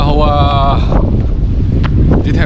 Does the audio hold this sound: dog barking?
no